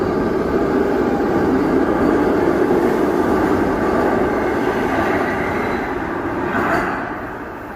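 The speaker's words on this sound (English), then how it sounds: "This is metro train to John Hopkins Hospital." A steady rumbling roar of a metro train to Johns Hopkins Hospital running past, loud and continuous, easing off slightly near the end.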